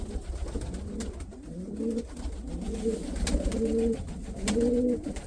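Pigeons coo in a home pigeon loft in December, a series of soft, rolling, throaty calls repeating closely over a low background hum.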